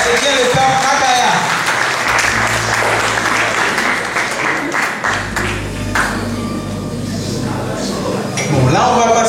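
Applause from a quiz show audience at a Haitian knowledge contest final in Paris, with steady clapping throughout, some clinks and voices mixed in under a low hum.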